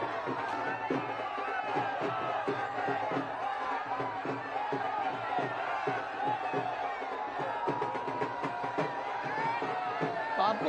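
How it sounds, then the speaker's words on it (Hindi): A dense crowd at a rally outside the Kashi Vishwanath Dham in Varanasi cheers and chants steadily, with dhol and tasha drums beating in rapid repeated strokes throughout, loud and continuous. "भीड़ में समवेत स्वर में जो मोदी मोदी के नारे लग रहे हैं, उसके साथ ही साथ ढोल ताशे के स्वर भी नजर आ रहे होंगे"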